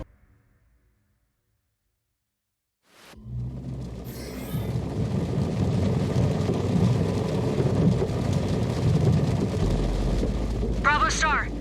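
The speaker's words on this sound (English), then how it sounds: "Looks like Alshane's flash storms are finally here to greet us." Thunderstorm in the MechWarrior 5: Clans video game, a flash storm: after near silence, a sudden swell into a sustained low rumble with rain-like hiss, loud and continuous, with a short whistling or warbling sound near the end.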